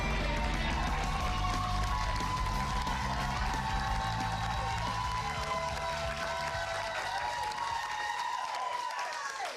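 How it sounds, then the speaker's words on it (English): A pumped-up crowd of high school students and teachers cheers and applauds continuously, a dense sustained roar of clapping and voices close by that thins slightly toward the end. "All right, pumped up crowd."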